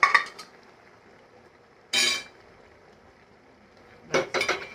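A metal spoon scrapes and clinks in a pan of curry with chopped greens, three short bursts of stirring separated by quiet pauses, close and clear.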